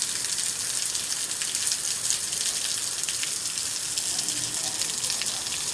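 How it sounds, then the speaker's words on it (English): Rain falling in a backyard in Phoenix, Arizona, a steady hiss of drops on the ground with no break, fairly close and even in level throughout. "I do just love the rain."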